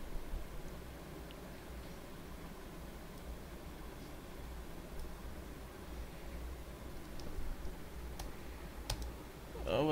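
A computer mouse gives a couple of sharp, quick clicks near the end, over a steady low background hum in a quiet room.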